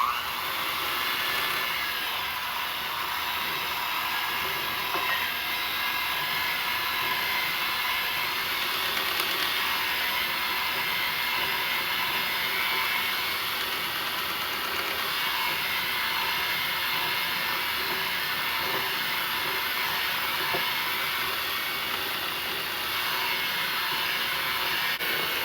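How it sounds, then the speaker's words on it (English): An electric stand mixer running on low, blending flour into shortbread dough: a steady, continuous motor whir with a faint grinding texture, held at an even level throughout with no talking. "with the mixer on low, we're going to slowly add it in"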